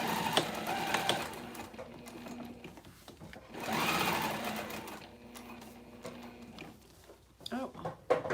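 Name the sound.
sewing machine stitching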